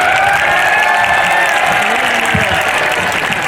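An outdoor festival crowd applauds to welcome a guest at a Rajasthani comedy event, a dense continuous clapping that stays loud throughout and includes faint voices and a little cheering.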